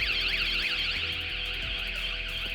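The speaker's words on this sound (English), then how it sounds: "I've noticed that it's 2 alarms going at the same time there" Two vehicle alarms blare at the same time, their loud warbling electronic tones overlapping and sweeping up and down continuously and close by.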